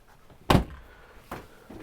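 A drawer in a 2023 Arctic Fox 25Y travel trailer is handled, giving two or three soft wooden knocks and thuds spaced apart in a quiet interior.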